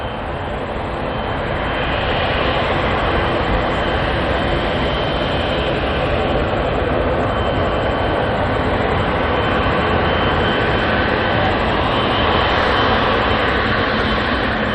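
Aircraft passing at Auckland Airport, a loud continuous engine roar and broadband rush that swells gently and holds steady throughout, close and dominant with no talking.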